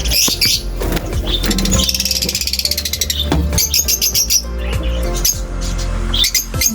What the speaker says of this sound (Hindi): तोते हैं लेकिन उनको भी चेक करते हैं।